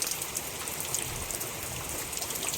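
Steady rain falling on a rainy day, a dense even patter of drops with no voices, continuous and fairly close for the whole stretch.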